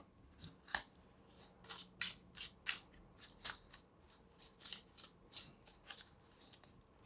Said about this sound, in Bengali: এবং আরেকটি কার্ড আমি নেব